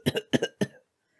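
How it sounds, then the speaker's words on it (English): A human voice acts out a dry, hacking cough in a story reading: three quick pairs of harsh bursts, close and clear, then silence. "How long have you had that cough?"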